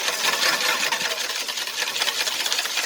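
Two eggs whisked briskly in a big bowl, a dense, fast, steady rattling tick of the whisk against the bowl, close and fairly loud with no talk.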